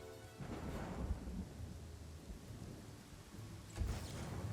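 Thunder rumbles with heavy rain through a sudden in-game storm with lightning in Pathfinder: Kingmaker, a steady loud roar punctuated by a sharper crack near the end.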